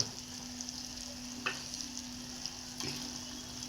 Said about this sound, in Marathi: आता आपण त्यातमध्ये टाकणार आहोत पालक आपण ग्रेव्ही करून घेतलेली